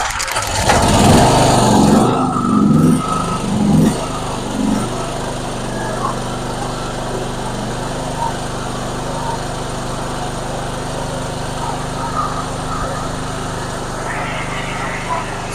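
A backup generator's small engine runs steadily after starting, a loud onset settling into a constant mechanical drone, with a brief revving rise near the end.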